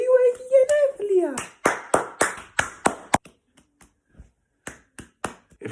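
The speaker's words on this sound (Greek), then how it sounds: "Ευχαριστώ πάρα πολύ που χειροκροτάτε" A few people clap for a child's birthday at home, sharp claps that speed up into rhythmic rounds and then thin out into scattered slaps, after a voice speaks at the start.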